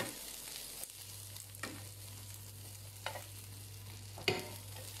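Garlic frying gently in oil over medium heat for anchovy pasta, a soft steady sizzle with a few light utensil taps and stirs, quiet and with no talk.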